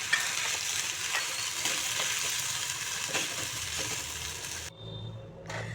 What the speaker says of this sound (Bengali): এখন এগুলোকে আমি মিক্স করে নেব